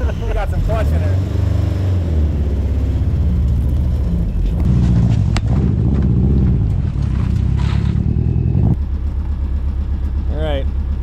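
Nissan 240SX race car, revived after sitting for 15 years, its engine running loudly with rough, shifting revs and a steady idle, close to the listener, with voices heard over it.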